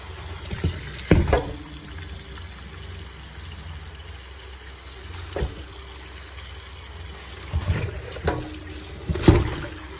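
Water runs into a cooking pot holding raw chicken, a steady wash of flow with several louder splashing bursts and clunks as the pot is handled, no voices.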